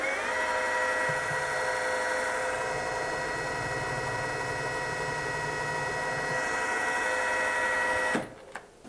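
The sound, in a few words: center drilling with a number 1 center drill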